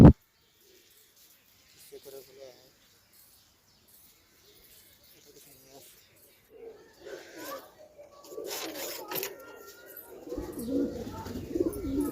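Madrasi pigeons coo at a home loft, starting as faint, sparse calls and growing into louder, busier cooing with rustling toward the end, all close by.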